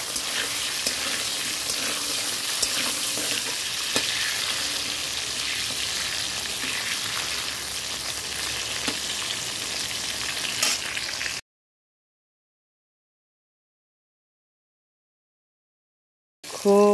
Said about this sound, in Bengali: পটলটা ভাজা হয়ে গেছে